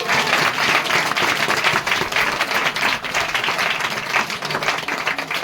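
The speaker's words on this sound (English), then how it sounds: "Clap your hands and give thanks to the God." A church congregation claps hands in steady, dense applause during a worship service, a continuous wash of many hands lasting throughout with no speech over it.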